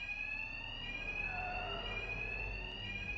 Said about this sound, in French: Les sbires de double face ne m'entendront pas avec l'alarme.